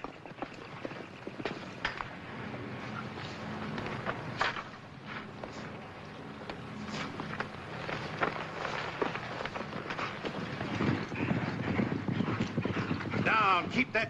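Horse hooves clip-clop in a steady walking rhythm during a riding lesson in the 1952 drama film Boots Malone, moderately close, with people talking over the hoofbeats throughout.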